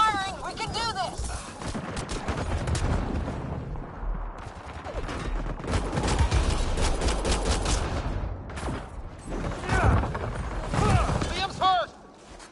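Sustained gunfire in Mass Effect Andromeda rattles almost continuously, thick and fairly close, with voices talking over the battle.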